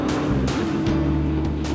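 A car rounds a double-apex race track corner in third gear, its engine note rising and falling through quick shifts as it passes nearby.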